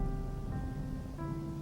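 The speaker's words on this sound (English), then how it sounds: "The rain had become part of the night now" Soft, even patter of night rain falling, a continuous gentle hiss with faint tonal hum beneath it and no voices.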